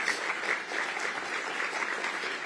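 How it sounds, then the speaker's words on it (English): Audience applause for event sponsors at a Detroit gathering marking the Michigan Chronicle's anniversary: a steady, dense wash of many hands clapping at once, moderately loud and continuous, with no voices over it. "Please give them a round of applause."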